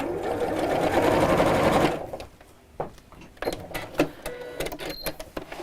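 A sewing machine runs steadily for about two seconds, stitching fabric layers together, then stops, followed by scattered small clicks and handling noises.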